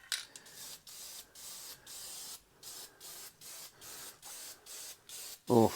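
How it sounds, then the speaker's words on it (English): Aerosol can of clear sealant sprayed over water decal transfer paper in a school back room, a series of about ten short, even hissing bursts with brief gaps, close and fairly loud, before a voice speaks briefly at the end. "Oh, this isn't really very good spray tip."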